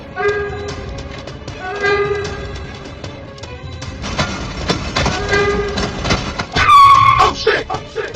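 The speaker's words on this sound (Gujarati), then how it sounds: "ટ્રેન આવે છે" A train rumbles closer with rhythmic clatter, loud and near, and a sharp horn blasts toward the end.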